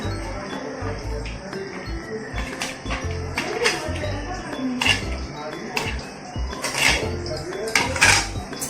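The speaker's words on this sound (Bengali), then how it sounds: "এবার আমি শিলে এগুলো বেটে নিচ্ছি।" Ginger, garlic, tomato, onion and chili being ground on a grinding stone for fish curry, heard as close rhythmic scraping and knocking of stone with clinks and rubbing strokes, loud and continuous.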